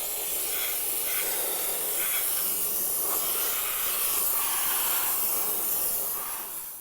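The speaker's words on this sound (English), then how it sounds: "So this door handle would be completely soaked down, but all the touch points are then steamed." A steam cleaner hisses steadily at close range as it steams a car's door handle and touch points during an emergency responder vehicle cleaning at a Ford Lincoln dealership, a continuous, loud spray with slight pulsing and no voices.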